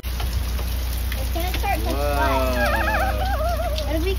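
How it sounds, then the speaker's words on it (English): Heavy rain pours outside in a steady, loud hiss of drops while a voice speaks over it in the middle. "It's raining cats and dogs"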